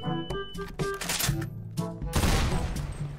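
Rapid bursts of gunfire in a video game, with sharp repeated shots and automatic fire mixed with game music tones and a dense burst of noise toward the end, loud and close.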